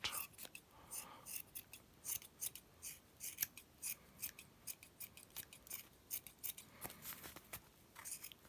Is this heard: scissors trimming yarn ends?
yes